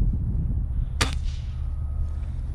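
A single sharp pellet gun shot rings out once against a steady outdoor rumble, fired at an iguana, close and crisp with a brief ring-off and no voices.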